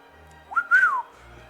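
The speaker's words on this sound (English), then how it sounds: "No whistling." A game character whistles in Dragon Quest V, a short rising and falling melodic tone lasting about half a second, heard clearly with no talk.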